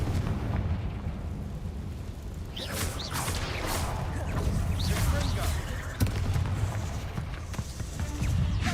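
The Confringo fire spell from a Harry Potter video game goes off in a dense, roaring burst of explosive crackle, loud and sustained, with a sharp blast near the middle over a rumbling game soundscape.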